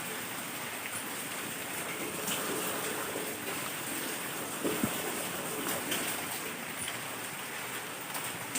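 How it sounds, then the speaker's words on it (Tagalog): Rain falls steadily outdoors as a soft, even hiss of drops, faint and continuous, with a few scattered louder taps along the way. "Medyo maulan guys no. Maulan."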